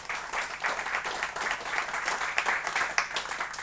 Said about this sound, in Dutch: Applaus voor hem.